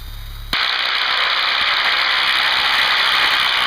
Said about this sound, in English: Now to turn off the engine